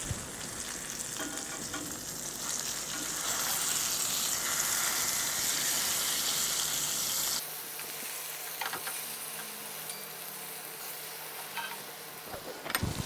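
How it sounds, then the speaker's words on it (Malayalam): Fish sizzles steadily in a pan for a Kerala-style fish fry, a loud, dense crackle of hot oil that drops to a quieter sizzle partway through, with faint clinks near the end and no voices. "ഇനി മീൻ നമുക്ക് പതുക്കെ ഒന്ന് മറിച്ചിട്ട് കൊടുക്കാം."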